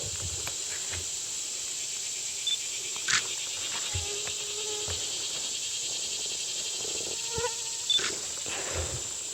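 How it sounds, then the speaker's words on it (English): Mosquitoes whine and buzz steadily close by in quiet woods, with occasional faint ticks and chirps scattered throughout. "I'm getting eaten up by mosquitoes"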